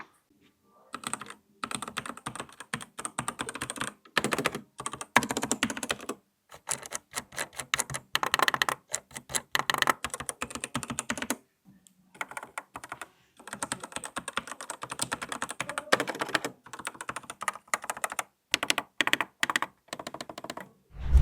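Typing on a Proove Gaming Sideswap mechanical keyboard: quick runs of sharp, clacky keystrokes broken by short pauses, close and clear, with no talking.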